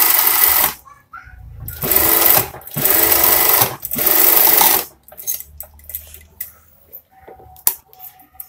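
A sewing machine stitches a scout uniform, running in loud steady whirring bursts about a second long with short breaks, then giving way to quieter handling clicks and fabric rustles.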